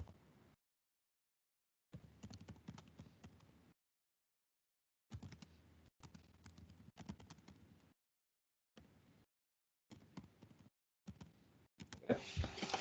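Someone types on a computer keyboard in short bursts of quick, close clicks separated by silent pauses, with a few louder keystrokes near the end.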